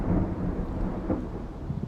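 A thunderstorm sound effect rumbles low and heavy with rain hiss underneath, a continuous roll of thunder swelling briefly near the middle, with no voices.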